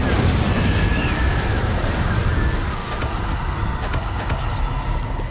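An Incendio fire spell cast in Hogwarts Legacy gives a steady, loud roaring rush of flame over game ambience, easing slightly midway, with a few crisp crackling bursts near the end.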